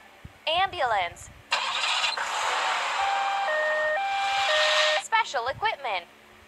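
A cartoonish ambulance siren wails in a kids' car video game, a steady two-tone electronic warble sustained for several seconds, bracketed by bright chirpy game sound effects and voice clips before and after.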